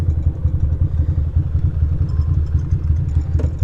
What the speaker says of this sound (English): riding a motorcycle